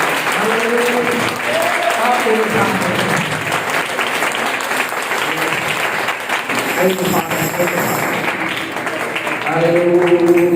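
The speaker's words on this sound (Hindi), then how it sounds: "ताली बजाकर खुदा की महिमा करें" Church congregation clapping along in praise during a Hindi worship song, steady applause running throughout under loud singing and a preacher's voice.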